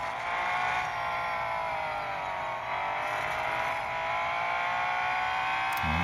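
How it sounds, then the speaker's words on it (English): A 2022 Aston Martin V12 Vantage's V12 engine in a racing video game, heard from the cockpit: a loud, continuous high-pitched engine whine holding steady under load, with no talk. "Yeah, that's the sound of V12, isn't it?"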